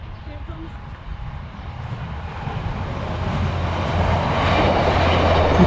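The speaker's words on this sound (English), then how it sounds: "The train heading to Southport goes past." A train rumbles past nearby through a level crossing, its roar swelling steadily and growing louder toward the end, with no talking over it.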